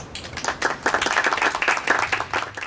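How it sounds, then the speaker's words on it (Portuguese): An audience at a literary talk applauds author Rafael Gallo with steady, fairly close clapping from many hands that swells and then tapers off. "A plateia rompe em aplausos a Rafael."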